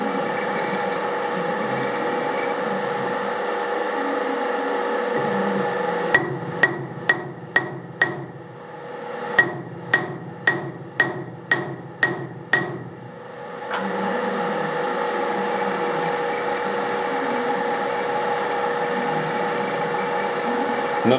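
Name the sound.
hammer tapping lathe chuck to adjust it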